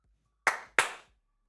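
Two sharp hand claps about a third of a second apart, loud and close, each with a brief ringing tail, in an otherwise quiet moment.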